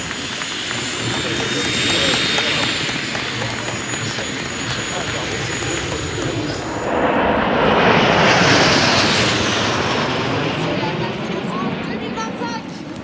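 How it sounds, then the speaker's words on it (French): A 1970s jet-powered aerobatic plane roars overhead at an air show, its engine noise swelling as it passes close and then fading into a steady distant rumble. "c'est un avion de voltige des années 70, directement au réacteur."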